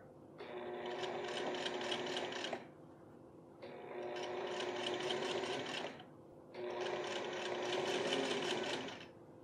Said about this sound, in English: Final step, I'm gonna run a top stitch all the way along